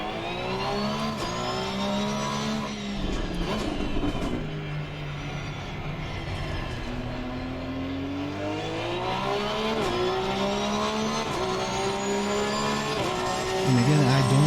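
Porsche 911 GT3 R race car engine on an easy warm-up out lap at Laguna Seca in the Assetto Corsa Competizione sim, a steady droning exhaust note that rises and falls with gear changes, loud and continuous throughout.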